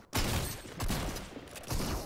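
Gunfire in the Fortnite video game: three or four loud, close bursts of shots in quick succession over about two seconds, with no talk.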